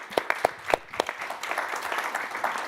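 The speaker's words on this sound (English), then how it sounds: "I just want to give them a round of applause." A few distinct loud claps start, then spread into a fuller round of audience applause for speakers at a civic campaign event, steady and fairly close through the end.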